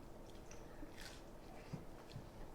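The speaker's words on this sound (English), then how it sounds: "Really nice crunch on that crust." Quiet, close bites and chewing into a crispy pizza crust baked on a Weber kettle grill, a few soft crunches spread over a couple of seconds with no talking.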